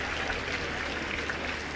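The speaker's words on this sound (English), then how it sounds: "Huge cheers from the home crowd." A home crowd cheers and applauds at a dressage arena during a five-year-old horse test, a dense, even patter of clapping sustained throughout without notable peaks.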